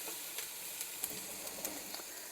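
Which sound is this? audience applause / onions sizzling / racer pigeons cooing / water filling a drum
onions sizzling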